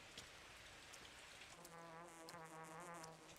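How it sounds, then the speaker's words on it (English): Twire herbs in the video game Pathologic 2 give off a faint, steady buzzing drone that rises in the second half over a soft hissing background, with no speech. "There's a buzzing sound for most twire herbs, and a ringing sound for the special flowers."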